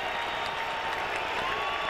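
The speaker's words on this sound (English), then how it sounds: "This crowd is packed," A packed stadium crowd at a 1999 Buffalo Bills home football game against the Oakland Raiders roars in a steady, dense wash of noise with no single voice standing out.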